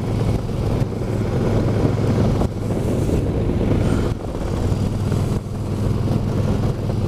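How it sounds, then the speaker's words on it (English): Riding a Harley motorcycle at about 50 mph on a cold November day, with loud buffeting wind noise over the microphone and a low steady engine rumble underneath, gusts swelling and dipping throughout. "back out here on the motorcycle. Doing about 50 miles an hour."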